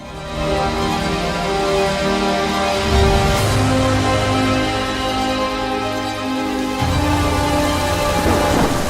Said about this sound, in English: But the rain would also stop just as abruptly as it began.